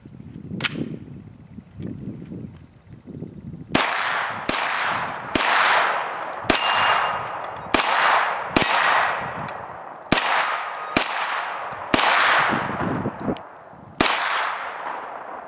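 A CZ Scorpion Evo pistol fires about a dozen sharp shots in an uneven string, each followed by a ringing clang from steel targets, all loud and close, after a few quieter handling noises.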